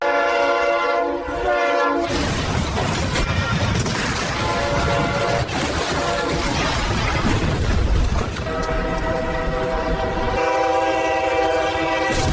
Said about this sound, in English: Here comes a horn show for all the rail fans out here. 3 longs, a short, and a long.